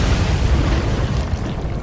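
Ship exploding in the naval war game Atlantic Fleet, a heavy, dense rumbling boom that fills the whole moment, loud and sustained with no voices.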